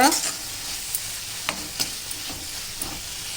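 Prawns frying in a pan for a ridge gourd and prawn curry, giving a steady close sizzle with a few sharp clinks of a spatulla against the pan, no talking.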